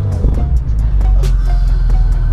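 A BMW M5 F90 engine runs after a push-button start, a loud, deep rumble heard close up inside the car, steady throughout.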